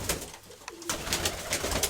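Pigeons in a loft cooing close by, soft low throaty coos repeating over a background of faint rustling and wingy flutters, with no voices during it.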